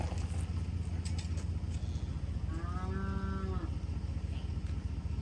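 A single cow lets out a clear, moderately distant moo over a steady low rumble of background noise, as cattle are offered barrel silage on a farm.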